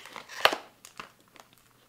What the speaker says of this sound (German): Das raschelt auf jeden Fall.